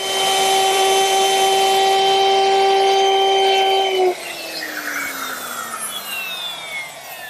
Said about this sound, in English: now we'll just round off the edges using the router